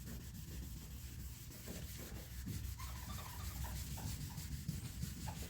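Wet sanding of the paint on a 1957 Chevrolet Bel Air with 2000 grit sandpaper makes a faint, steady rubbing hiss with soft back-and-forth strokes.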